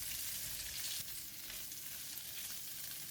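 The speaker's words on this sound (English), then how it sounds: "Give it a stir over the heat until tofu and garlic are well combined." Tofu and garlic crackle in a hot pan as they are stir-fried, a soft but steady sizzle with faint stirring movement, quiet and close with no talking.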